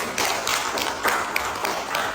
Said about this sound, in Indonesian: Beri tepuk tangan untuk teman kalian